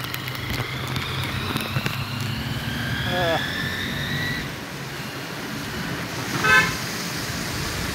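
A car drives along a road beside a busy weekly market, its engine humming steadily while a horn toots a couple of times and other vehicles pass, with people talking in the cabin.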